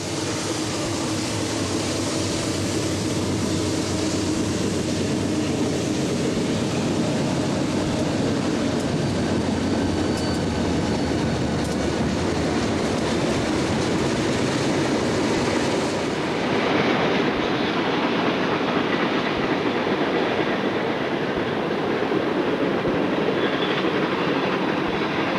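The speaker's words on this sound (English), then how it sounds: "Train 10N is approaching on track 2" A heavy merchandise freight train, train 10N, hauled by several locomotives on the Pennsylvania Railroad Broadway route, rolls past loud and close with a continuous roar of wheels and rattling cars, the noise shifting partway through.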